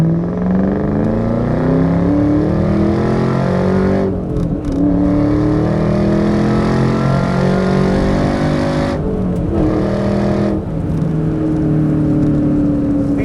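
A 2003 Ford SVT Cobra engine revs loudly and continuously, rising and falling in pitch with brief dips between pulls, close by.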